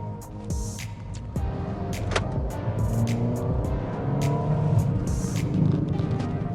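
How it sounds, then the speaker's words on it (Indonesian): A 2019 Toyota Yaris TRD Sportivo automatic accelerating with the window open, its engine rising into a steady drone under road and wind noise, heard from inside the cabin along with scattered clicks and knocks. "Coba akselerasi sebentar ya"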